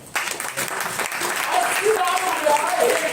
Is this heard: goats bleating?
no